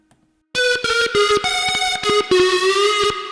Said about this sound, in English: This is what it sounds like with just distortion.